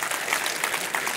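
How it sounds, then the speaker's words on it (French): Brief burst of audience clapping at a developer conference as a contest winner is announced, a short even patter heard fairly faintly in a hall. "Vous pouvez applaudir."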